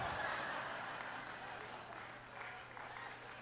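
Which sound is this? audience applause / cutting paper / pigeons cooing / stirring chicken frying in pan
audience applause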